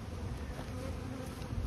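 Dense, steady buzzing of many honey bees around hives at an apiery, a continuous insect drone with no voices over it.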